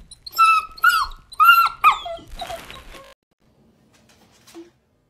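A dog vocalizes in a run of four or five close, loud squeaky whines and grumbling growls, then a scruffier noisy burst, followed by near silence with one faint short yelp at the end.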